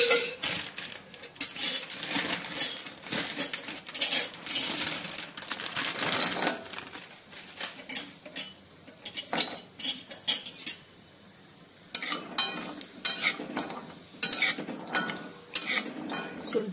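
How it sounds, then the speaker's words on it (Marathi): Dry ginger roasts in a pan with a little oil, heard as busy close clinks, scrapes and rattles of a utensil against the pan, with short pauses between bursts and no speech. "आता मी सुंठ भाजून घेते."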